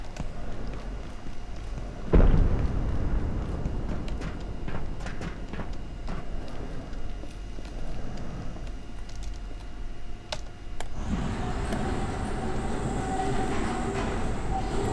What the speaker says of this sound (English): the trams sound different too